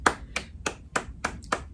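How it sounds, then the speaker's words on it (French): Six sharp hand claps in an even, slow rhythm, close and fairly quiet, with no voices. "ma chérie, j'applaudis"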